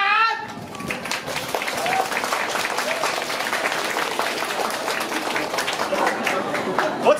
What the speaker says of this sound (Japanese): ぼちぼちの拍手どうもありがとう